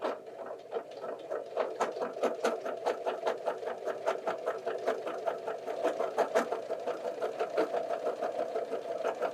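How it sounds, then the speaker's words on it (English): A sewing machine stitches along the coil of an invisible zipper through layered heavy home decor fabric with a larger needle, a rapid even run of needle strokes pattering on steadily for several seconds. "Now we're going to go sew right along that coil."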